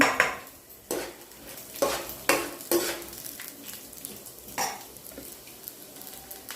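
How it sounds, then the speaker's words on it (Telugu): Chana dal and urad dal frying in hot oil in a pan, with steady close sizzling broken by several sharp scraping stirs and clinks of a spoon against the pan, no talking. "శనగపప్పు మినపగుండ్లు కూడా వేయించాలి"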